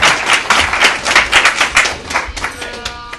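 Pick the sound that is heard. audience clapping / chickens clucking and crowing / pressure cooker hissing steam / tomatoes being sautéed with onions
audience clapping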